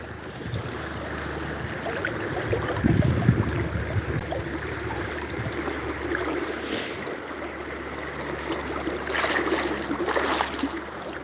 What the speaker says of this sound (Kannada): ನಾವು ನದಿಯನ್ನು ದಾಟ್ತಾ ಇದ್ದೀವಿ